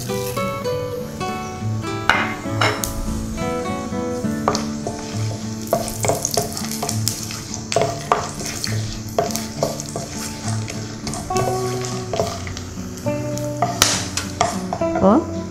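Whole spices and cumin, with cinnamon, cloves, cardamom and star anise, fry and sizzle in hot oil for vegetable pulao, with repeated stirring and clinks of a spoon against the pot throughout, close and steady.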